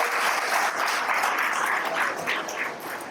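Audience in a college auditorium at a student meetup applauding, steady dense clapping throughout, loud and continuous without a break.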